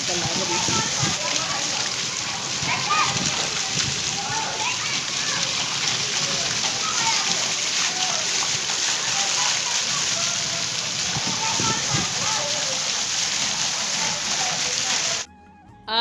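Heavy rain pours down steadily and loudly, a dense hiss of drops splashing on surfaces that continues unbroken before cutting off abruptly near the end.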